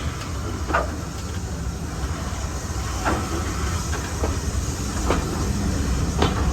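A Class 31 diesel hauling Pullman cars on the North Yorkshire Moors Railway, a steady rolling rumble with rhythmic wheel clicks over rail joints every couple of seconds, close and continuous.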